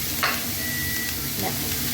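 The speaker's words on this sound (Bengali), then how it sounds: "এটা একটু ভাজা হয়ে যাক" Steady sizzling of sago frying in a pan with salt and turmeric, a continuous crackling hiss with a couple of brief scraping touches, no talking.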